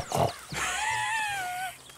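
Pig grunts in Red Dead Redemption 2, heard at a camp: a short low grunt, then a drawn-out squealing snort with a wavering pitch that fades out, close and clear with no talk over it.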